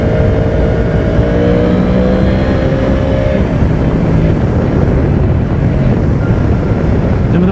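A Yamaha YZF 1000 R1 motorcycle rides in third gear, its engine a loud steady drone with rising harmonic whine, heavy wind roar buffeting the microphone throughout.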